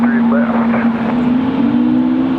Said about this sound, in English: Ooh, another A220.